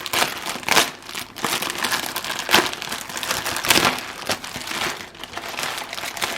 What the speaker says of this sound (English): it looks like you can tear this right open here